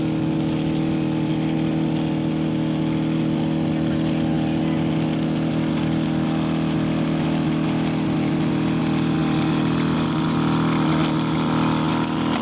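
A weed whacker runs close by with a steady, loud, droning engine whine that stays continuous and unbroken throughout, with no other sound over it.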